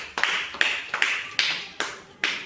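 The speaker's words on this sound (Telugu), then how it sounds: "Very good, claps." A group of primary schoolchildren in a classroom gives six short bursts of applause in quick succession, each a crisp flurry of hand claps that fades before the next.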